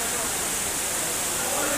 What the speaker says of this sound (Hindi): ये रहा कैंपटी फॉल का बहुत ही सुंदर नजारा।